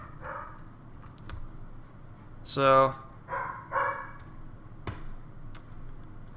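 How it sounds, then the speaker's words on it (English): A dog barks in a short burst of a few yaps midway, somewhat distant in a room, with a person speaking briefly around it. "yeah, we got a dog now."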